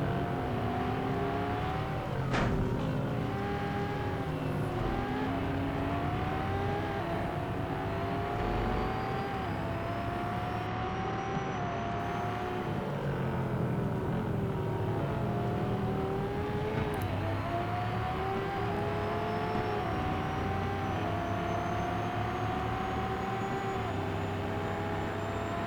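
Lamborghini Asterion LPI 910-4 and rival racing cars in a five-car, two-lap video game race, a steady engine drone with rising and falling gear-change whines, continuous and fairly loud throughout with no talking.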